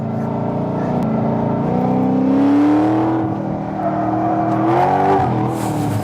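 A 700+ HP Corvette on a race track revs hard, its loud, close engine note rising and sweeping in pitch through two strong pulls with a steady roaring drone, no talking.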